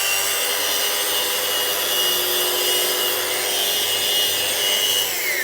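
A power sander works on wood while tilted, giving a steady, loud, dense abrasive whir and scrubbing that runs unbroken with no voices.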